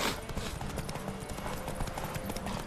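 Galloping horse hooves in The Witcher 3 video game, a fast, steady clip-clop rhythm running throughout, with game sounds layered around it.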